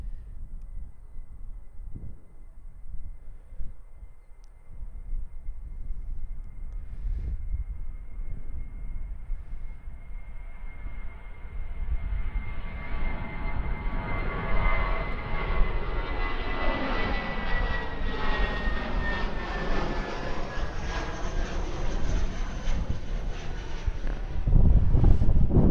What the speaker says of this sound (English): Oh yeah, that's some nice sound coming out of the IAE V2500 engines on the 320CO